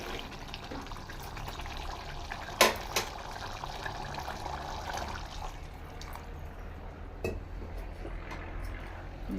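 Water poured into mutton keema masala cooking in a pot: a continuous liquid pour and splash with a couple of sharp clinks from the pot, running steadily throughout.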